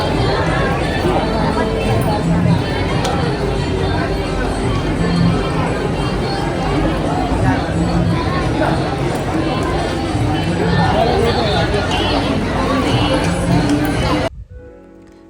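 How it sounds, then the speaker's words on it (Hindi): A dense crowd murmurs at the Ganga ghat in Varanasi, a loud, steady babble of many voices and footsteps close around, continuing without pause until it cuts off abruptly at the end. "देखा यहाँ पे इतनी ज़्यादा भीड़ है।"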